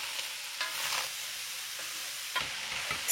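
Chopped vegetables browning in a pot with ground beef for chili con carne, a steady close sizzle broken by a few scraping stirs of the spoon.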